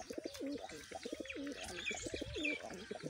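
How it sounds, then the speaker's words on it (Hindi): Several pigeons coo steadily in a repeating rolling rhythm, close by, with faint chirps above, at a pigeon market. "ये रहा तीसरा कबूतर"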